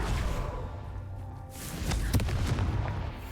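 A Confringo fire spell explodes in Hogwarts Legacy during a Merlin trial, with a rumbling blast and a sharp impact followed by crackling, booming debris at moderate loudness.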